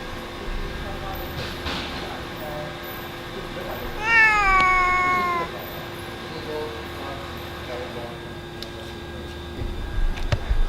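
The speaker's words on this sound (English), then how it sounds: "And there is a kitty cat in the rice." A cat lets out a single drawn-out meow among the rice in a rice mill, heard over the steady hum of husk-removing machinery.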